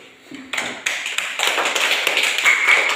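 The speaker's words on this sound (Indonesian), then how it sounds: "Tepuk tangan dulu." A primary school class claps together in a classroom, starting with a few scattered claps and building into a bright, quick, fairly close round of clapping from the children.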